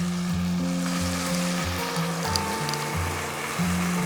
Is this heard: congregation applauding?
no